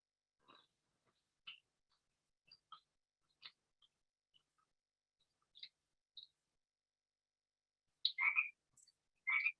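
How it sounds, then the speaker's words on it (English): Frogs croaking, played back as a recording outdoors, heard as sparse, faint chirping croaks scattered over near-silence, followed near the end by a few louder, clustered calls. "it would hear either the sound of frogs, which was our control sound"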